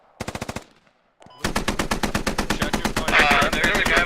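Machine gun fire in a military video game: a short rapid burst, a pause, then a long sustained stream of evenly spaced shots, loud and close, with some louder crackle later on.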